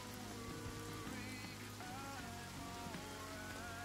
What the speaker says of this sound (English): is it raining out?